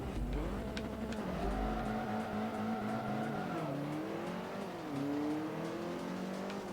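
A rally car engine in the racing game Forza Motorsport 3 revs and climbs through gears, its pitch rising and dropping with shifts, steady and moderately loud with faint tire noise underneath.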